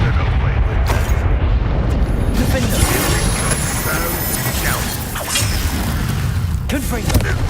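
The Confringo blasting spell explodes repeatedly during a wizard duel in Hogwarts Legacy, giving dense, rumbling booms and crackling debris over a constant roar of combat noise.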